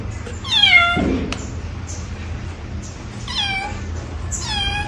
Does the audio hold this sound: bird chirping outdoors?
no